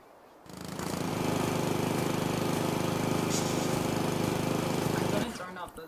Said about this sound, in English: It is time for the lawnmower to come out.